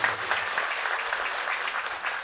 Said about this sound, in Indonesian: tepuk tangannya untuk beliau semua.